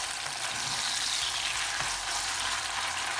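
Meat fries in a curry and cream sauce in a pan, giving a dense, continuous sizzle with steady crackling that stays close and even throughout, no voices.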